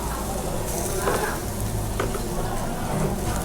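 Sausages sizzle on a drum barrel grill, a steady close crackle running throughout with a few louder pops, while people talk faintly in the background.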